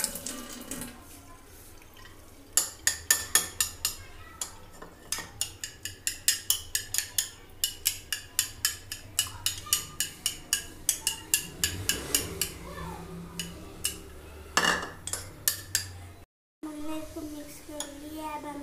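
Food is mixed by hand in a bowl, producing a close series of rhythmic wet squelching slaps that repeat steadily for many seconds, with quiet background talk at the start.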